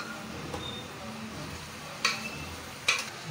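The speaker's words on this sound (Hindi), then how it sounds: "चिकन को अच्छी तरह फ्राई कर लीजिए।" About 2.5 kilograms of chicken frying in a pot for chicken karahi, a low steady sizzle with two or three sharp spoon clacks against the metal, close and moderately loud, no voices.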